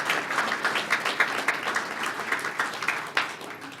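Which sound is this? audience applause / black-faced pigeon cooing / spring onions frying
audience applause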